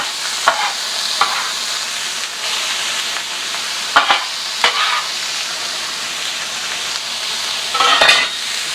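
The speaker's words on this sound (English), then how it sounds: "I'll put a few squirts of olive oil in here." Peppers and onions fry in olive oil on a Char-Griller Gravity 980, a loud continuous close sizzle broken by several sharp scraping tosses of the vegetables.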